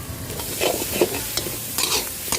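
Chicken noodles, Thai kua gai style with spring onion and pepper, tossed in a pan, a close steady sizzle with rhythmic scraping and clacking of the spatula, no voices.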